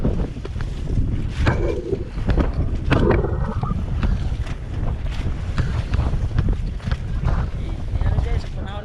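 Strong, gusting wind of stormy weather after Typhoon Enteng buffets the microphone in heavy, continuous rumbling blasts, with someone talking intermittently through it.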